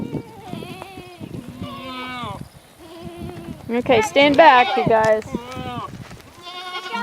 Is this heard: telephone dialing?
no